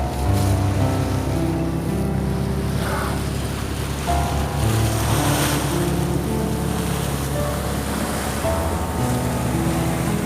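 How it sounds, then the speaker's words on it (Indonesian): Calm open sea heard from aboard a boat: a steady wash of gentle waves and wind over a low, constant engine hum, with no talking. "laut landai, ombak bersahabat."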